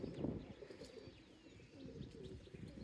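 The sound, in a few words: pigeons cooing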